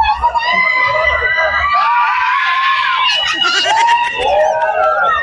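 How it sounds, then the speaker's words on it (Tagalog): Riders on an amusement park ride at Enchanted Kingdom in Sta. Rosa, Laguna scream loudly and continuously, a crowd of shrieking voices rising and falling close by, with some shouting and laughter mixed in. "Sigaw kayo na sigaw dyan."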